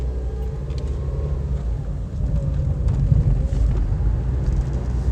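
A Nissan Versa with a bad transmission idles with a steady low engine rumble that swells and eases as the car surges back and forth, growing slightly louder midway, with no talking.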